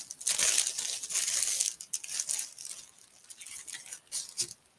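A card kit package is unwrapped with continuous close crinkling and rustling of plastic wrap and paper, loud and uneven, with no one talking.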